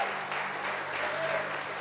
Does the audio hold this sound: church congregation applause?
yes